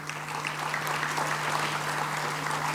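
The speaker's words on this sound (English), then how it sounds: "Let's give all our speakers another round of applause" Sustained applause from a sizable conference audience at an inaugural session, dense clapping holding steady throughout with a low hum underneath.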